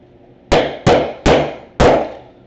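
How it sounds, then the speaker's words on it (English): Four loud, sharp metallic hammer strikes drive a copper rivet through leather using a heavy metal-handled setter tool, spaced at a steady, slightly uneven rhythm, each blow ringing briefly before decaying. "you set it down over the post of the rivet and you drive that washer down"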